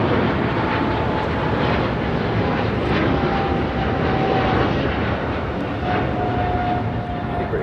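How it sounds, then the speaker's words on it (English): A British Airways Boeing 777-300ER jet takes off from LAX bound for London Heathrow, its loud, broad engine roar sustained steadily throughout, with a faint whine drifting through. "Taking off to London Heathrow on a 777-300ER."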